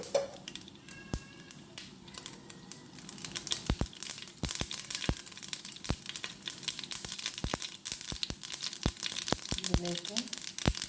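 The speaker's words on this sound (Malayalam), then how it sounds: "ചൂടായ പാനിലേക്ക് കുറച്ച് കടുക് ഇടുന്നുണ്ട്." Mustard seeds crackle and pop in a hot pan, sharp irregular snaps scattered over a soft sizzle and growing busier as they heat, with no talking.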